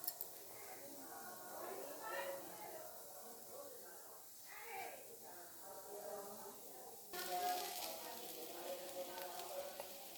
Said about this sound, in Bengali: এই কচুটা আমি ভেজে নেব একটু কাঁচা লঙ্কা কালো জিরে দিয়ে